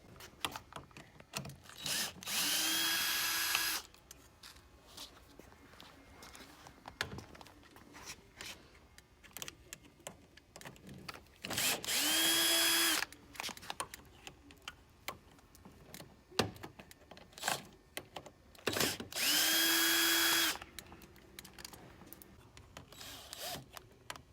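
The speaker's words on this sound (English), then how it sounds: "by taking these 4 screws out, we're going to slide our electrical box up enough to be able to loosen up these screws" A power drill backs four screws out of an electrical box on a rib arm with lights, with several loud whirring bursts of a few seconds each and quieter clicks and handling noises in between.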